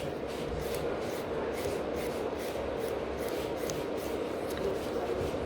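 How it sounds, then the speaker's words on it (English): A nail file blending a gel nail overlay in a salon, producing a continuous soft, close rasping with rhythmic strokes and no talking. "I'm not filing excessively really, I'm just blending"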